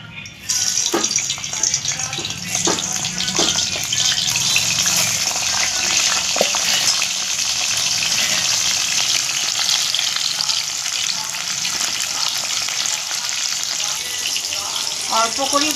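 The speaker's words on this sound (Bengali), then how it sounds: "তেলটা গরম হয়ে গেছে, এবার আমি কপিটা ছেড়ে দিচ্ছি।" Cauliflower dropped into hot white oil in a wok, a loud, dense sizzle bursting in and holding steady with crackles and occasional stirring clicks, close up.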